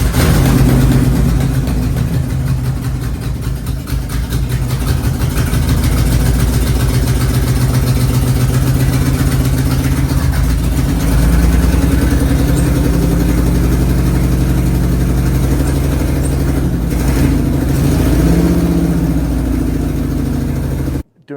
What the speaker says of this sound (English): we did fire it and it did get it to run, but unfortunately only on about 9 or 10 cylinders